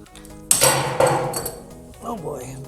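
Metal parts clatter and clink as they are dropped during a Yamaha YFZ450R build, with two sharp impacts followed by rattling, and someone speaks briefly near the end.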